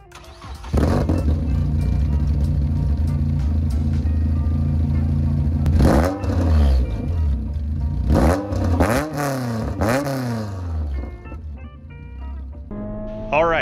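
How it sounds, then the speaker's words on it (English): A race car with its rear muffler removed and exhaust turned down idles with a deep, loud rumble, then revs in several sharp bursts that rise and fall, close by, with brief mechanical clatter. "I was able to remove the rear muffler, and I got it turned down, welded up, so I wanted you guys to hear that real quick."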